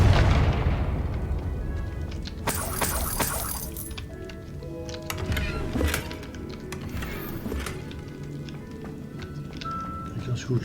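An explosive Confringo spell cast in the video game Hogwarts Legacy, heard as loud booming bursts partway through, layered over game effects and background music while a person talks throughout.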